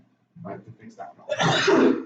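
A loud, close sneeze bursts out at the end of a programming lecture, just after a few words spoken by a lecturer.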